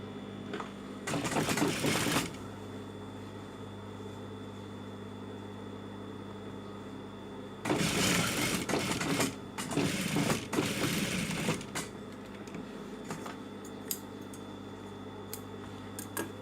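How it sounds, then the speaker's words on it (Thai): A sewing machine backstitches a jeans seam while a waist is widened, two bursts of rapid mechanical stitching separated by a quieter pause, with a steady low hum running underneath. "เราเย็บย้ำไว้หนึ่งตะเข็บก่อนนะคะ"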